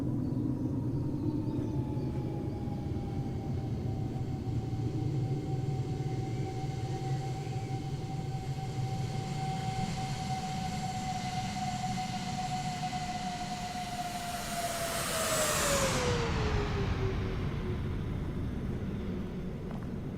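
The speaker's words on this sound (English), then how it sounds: "There's the Chinook." A Chinook twin-rotor helicopter in Microsoft Flight Simulator 2024, on a firefighting run, gives a steady droning engine and rotor hum that builds to a loud close pass, then drops sharply in pitch as it goes by.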